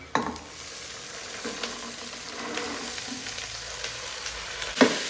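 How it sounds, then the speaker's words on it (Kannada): Green peas sizzling in hot tempering oil in a pan, a steady soft crackle with a few scrapes and stirring clinks, no voices. "ಬಟಾಣಿನ ಒಂದು 2 to 3 ಮಿನಿಟ್ಸ್ ಒಗ್ಗರಣೆನಲ್ಲಿ ಫ್ರೈ ಮಾಡ್ಕೊಳ್ಳೋಣ."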